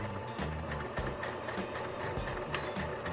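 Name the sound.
sewing machine stitching zigzag seam on fabric bag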